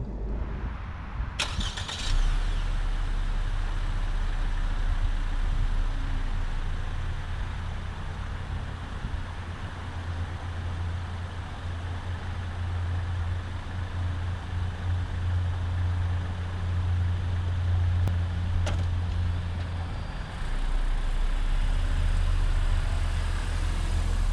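A 2020 Lexus NX300 F-Sport with a turbo engine drives on the road, heard from inside as a steady low engine and road rumble with a brief spike near the start.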